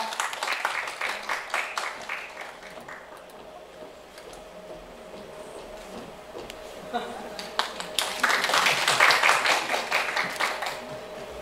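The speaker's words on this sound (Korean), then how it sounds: "박수로 맞이해 주세요." An audience at a talk concert applauds to welcome a guest soprano, a professor, with clapping rising and falling, easing off in the middle and then swelling louder near the end, and a voice speaking briefly under it.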